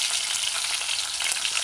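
Chicken pieces sizzle loudly in a pan for jerk chicken stew, a dense, steady frying hiss close up with no voices.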